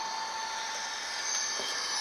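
A Bachmann N scale Roaring Rails DCC model train runs along its track on a rug, giving off a steady, thin whirring hum with a faint high whine, quiet and alone.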